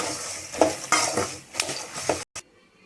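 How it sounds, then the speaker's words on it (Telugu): Flattened rice being mixed with salt, coriander powder and turmeric in a bowl, close scraping and stirring clatters with a few spoon clinks, then cutting off abruptly. "బాగా మిక్స్ చేసి"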